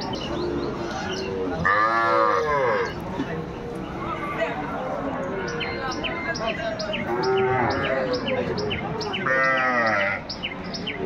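Cattle at a rural market, young bull and heifer calves, low over the crowd: several drawn-out moos come at intervals, with voices and market bustle continuing underneath.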